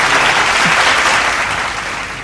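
A dense wash of audience applause at a club-night radio show, loud and steady throughout, many hands clapping together with no talk over it.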